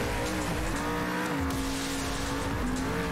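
Race cars speed by with squealing tires in a racing video game, engines droning and revving continuously, with tire squeal rising and falling through the whole stretch.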